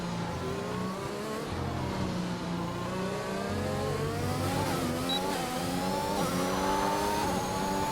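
Several racing cars in an F1 video game accelerate hard at a restart at Belgium, engines revving and rising in pitch together as the pack pulls away; a steady, loud engine roar throughout with no talking.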